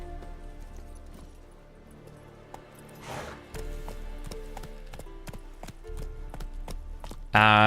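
Hooves clip-clop in a quick, steady rhythm, moderately close, like a horse trotting in The Witcher 3, with a brief whoosh partway through and a loud burst at the end.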